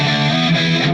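A Charvel So Cal Pro Mod electric guitar plays through its Seymour Duncan Distortion pickup, giving a loud, sustained, heavily distorted chord with dense harmonics that holds steady for the full second.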